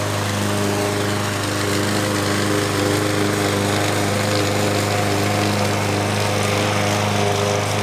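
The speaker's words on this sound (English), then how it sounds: "You gonna mow the lawn now, or what are you gonna do? Mow the lawn." A lawn mower runs steadily and loudly, its engine drone holding an even pitch throughout with no break and no voices, set in a home yard.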